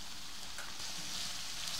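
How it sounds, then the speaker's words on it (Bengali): Chopped garlic and onion frying in a pan, a soft continuous sizzle with fine crackling, steady and fairly quiet with no talking. "রসুন আর পেঁয়াজটা খুব সুন্দর করে ভেজে নিতে হবে।"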